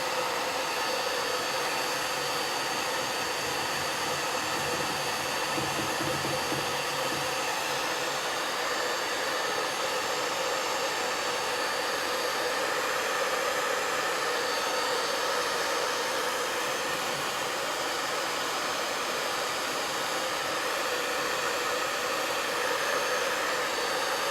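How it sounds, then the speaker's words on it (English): A hair dryer drying paint blows steadily and loudly, a continuous broadband whoosh that runs unbroken for the whole stretch with no talking. "hit this with a blow dryer really quick"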